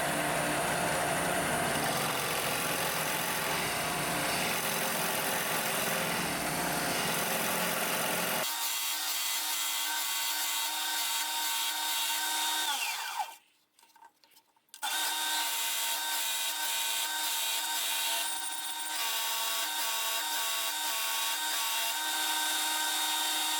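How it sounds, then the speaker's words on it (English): A handheld router with a final bit removes excess wood while shaping a dish or tray. It makes a loud, steady, high-pitched whine with rough cutting noise, then drops out briefly and resumes cutting at a slightly lower pitch. "then we'll remove the extra material again with that final bit"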